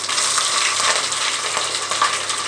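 Green chilies frying in about two spoons of hot oil with cumin and mustard seeds, a steady close, loud crackling sizzle with no pauses and no voices.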